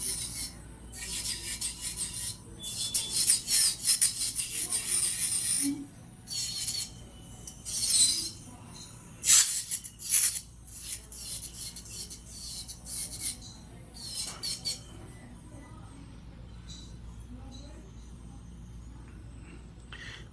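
A nail drill with a ball-head sanding band files down fingernails, giving close, scratchy bursts of rasping that start and stop irregularly with quiet gaps between them.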